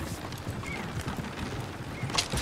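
Horse-drawn coach hooves clopping in Red Dead Redemption II, a dense continuous patter of hoofbeats and rolling wheels under steady broad noise, moderately loud throughout.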